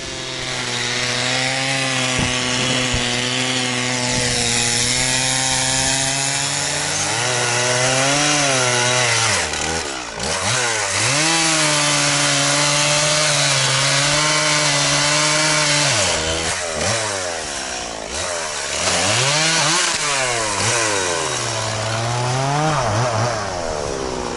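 Motor saw cutting firewood at a camp in the taiga, a loud, continuous engine whine that rises and falls repeatedly as it bites into the wood, with no voices.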